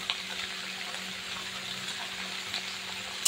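Spring onion greens with turmeric frying in a pan give a faint, steady sizzle with a few soft stirring scrapes, heard alone with no talking.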